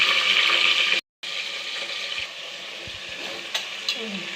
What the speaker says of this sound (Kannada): ಎಲ್ಲ ಬದನೆಕಾಯಲ್ಲೂ ಮಸಾಲೆ ಸ್ವಲ್ಪ ಸ್ಟಫಿಂಗ್ ಮಾಡಿ ಎಣ್ಣೆಲಿ 1-2 ನಿಮಿಷ ಫ್ರೈ ಮಾಡೋಣ